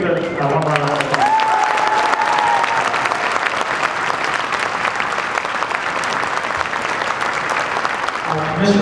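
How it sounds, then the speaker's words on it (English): Sustained audience applause fills a high school band awards concert hall, steady and dense throughout, with a voice talking briefly over the clapping near the start. "Yeah, let's give it one more round of applause."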